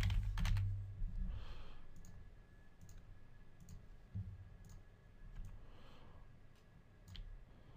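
Quiet, irregular clicks of keys being typed on a computer keyboard, a handful of separate taps and short bursts over a low room hiss, with no voices.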